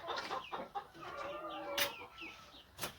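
Inside a coop, Amurox hens cluck softly and continuously at moderate distance, broken by a couple of brief sharp noises, with no one speaking.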